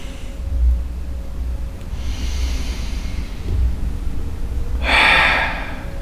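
A person exhales audibly during a hatha yoga stretch on a mat, a few soft breaths spread out, with one longer, stronger breath out near the end, close and alone.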